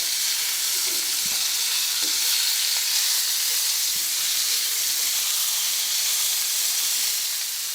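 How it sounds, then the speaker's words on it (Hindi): Chicken sizzling in ghee in a pan, a steady dense hiss of frying that holds throughout with a few faint clicks of the pan, with no talk. "सबसे पहले हम ये चिकन डालेंगे घी के अंदर।"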